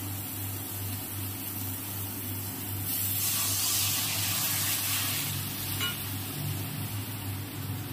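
Curry masala frying in hot oil hisses steadily; when water is poured in, a louder surge of sizzling spray swells for a couple of seconds before settling back to a steady simmer, no voices.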